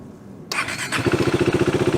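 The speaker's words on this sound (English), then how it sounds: "First, crank your motorcycle up." A motorcycle engine starts up: a brief cranking whir, then the engine catches and settles into a close, steady, pulsing idle.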